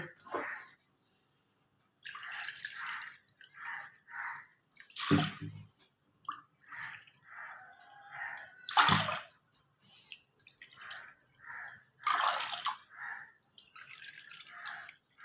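Water splashes and drips in intermittent bursts, poured in several short pours into a pot of dal (lentils with drumstick leaves), with quiet gaps between them, close by.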